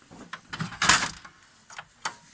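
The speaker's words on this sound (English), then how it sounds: "Then you open this door." The access door of a Ricoh MP copier is opened, giving a few light plastic clicks and a brief scraping swing, close and moderately loud, with a final click as it settles.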